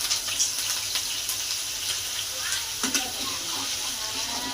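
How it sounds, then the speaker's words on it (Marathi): Coconut, chili, garlic and coriander paste frying in hot oil with cumin and curry leaves, a steady close sizzle with faint crackles running continuously without talk. "आपण याला चांगलं तळून घेऊया वाटणाला"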